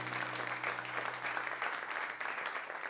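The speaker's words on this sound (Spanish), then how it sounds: "¿por qué no damos un aplauso para todos aquellos que están aquí visitándonos hoy en día?" Church congregation applauding visitors during a Spanish-language service, a steady patter of many hands clapping together, fairly faint and even throughout with no talk over it.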